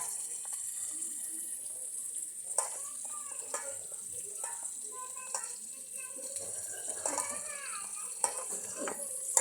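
Spices being mixed by hand into food with raw oil in a kitchen pot, soft wet squelching and stirring with occasional clinks of the pot, fairly close, under faint background voices.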